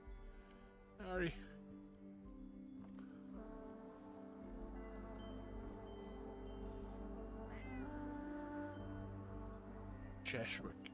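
A cat in the Fallout 76 video game meows several times, short upward-bending cries near the start, middle and end, over a steady low game ambience.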